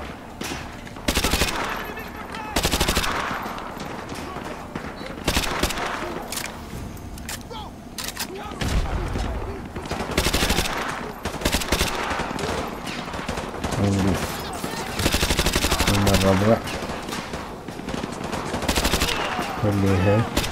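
Submachine gun fire in Call of Duty Modern Warfare 2 Remastered comes in repeated sharp bursts of rapid shots across the whole stretch, loud and close, mixed with game noise and voices.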